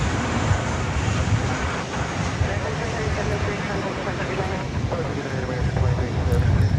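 An American Airlines Boeing 737 arriving from Mexico City lands at DFW airport at night, giving a continuous low rumbling roar that swells slightly toward the end, with people talking over it.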